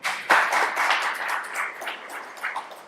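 Audience applause and clapping in a talk venue, a steady broadband patter of many hands lasting about three seconds, moderately loud and fading slightly toward the end.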